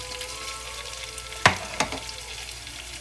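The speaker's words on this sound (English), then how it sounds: "So stir fry it a little bit. Mix it all together." Onions and freshly added spring onions stir-fried in a pan for Filipino escabeche, with a steady soft sizzle and a few sharp spatula scrapes and clacks partway through.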